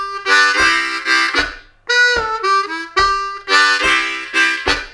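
Harmonica playing a blues lick in a chugging style, rhythmic breathy chords alternating with a bent single-note phrase in the middle, close and loud, repeating in short pulsing bursts.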